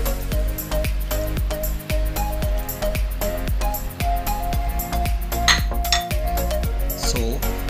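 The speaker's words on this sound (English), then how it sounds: "Mag-add na rin tayo ng ating melted butter. And then, yung ating coconut milk." Melted butter and coconut milk are poured into a cassava cake mixture in a bowl, with repeated clinks and taps of utensils against the dish running steadily throughout, close and moderately loud, with no talking.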